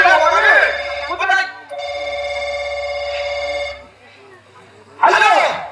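A mobile phone rings with a repeating electronic melody inside a vehicle, and voices speak before and after it.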